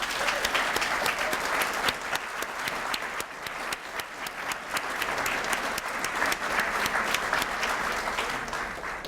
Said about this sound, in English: could we have another round of applause for all of our honorees today?